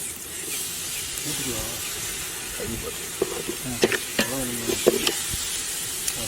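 Mustard seeds sputter in hot oil while coconut milk biryani is being made, a constant close hiss and sizzle. People talk over it in the second half.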